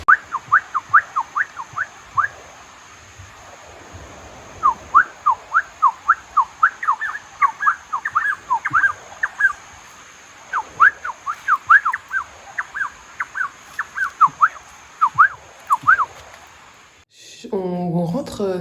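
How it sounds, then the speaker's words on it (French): Two parrots nesting in a termite mound in Colombian rainforest give repeated bursts of sharp, rhythmic chirping calls, fairly close, over a quiet background hum, ending with a clatter. "Il y a 2 perroquets qui sont en train de faire un nid dans la termitière."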